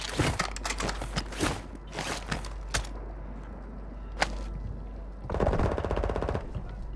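Automatic gunfire in Call of Duty: Modern Warfare II Resurgence trios, loud rattling bursts and single sharp cracks up close, pausing midway before another sustained burst.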